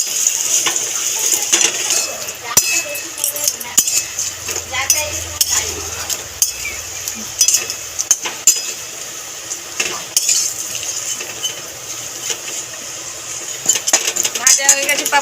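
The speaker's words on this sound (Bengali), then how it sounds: "তেল গরম হয়ে গেছে, পাঁপড়গুলো দিয়ে দেবো। নেড়ে ছেড়ে ভেজে নেবো সব।" Papad frying in hot mustard oil in a wok while being stirred, with scattered clinks and scraping of a utensil against the pan over a steady crackling hiss, plus a low rumble in the middle.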